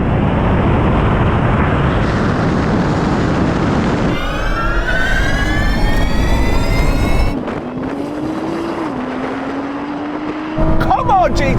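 A tuned Nissan GT-R and a Porsche 911 Turbo in a drag race: loud engine roar with rising gear-change whine sweeping upward, then a lower engine tone climbing as a car pulls away, with a commentator talking over it.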